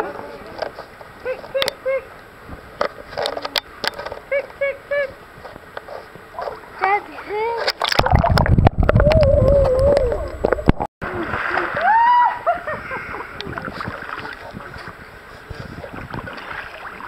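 Splashing in an outdoor swimming pool in New South Wales as a child kicks, heard in intermittent bursts that swell into a sustained, louder churn of water midway, with adults calling encouragement over it.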